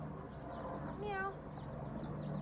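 A voice imitates a cat's meow, one rising-and-falling call during cat pose in a children's yoga session, faint and short over a steady low room hum.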